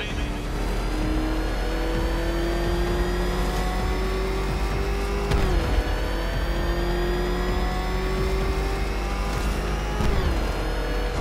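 The Batmobile's engine in Batman Arkham Knight revs up loudly and close, its pitch climbing steadily in two long accelerating sweeps, each dropping sharply around a gear shift before rising again.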